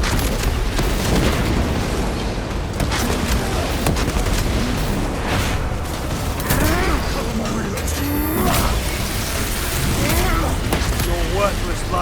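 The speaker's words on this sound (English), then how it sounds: "Frag grenade!" A frag grenade blast in Warhammer 40K: Space Marine 2 erupts amid dense, continuous battle noise of booms, gunfire and clanking mechanisms, loud and sustained, with voices speaking over the chaos.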